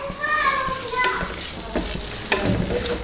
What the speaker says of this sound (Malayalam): നമുക്ക് ഈ അരിഞ്ഞു വെച്ചിട്ടുള്ള പച്ചമുളക് ഇഞ്ചി വേപ്പില അത് ഇതിൽ ഇട്ട് കൊടുക്കാം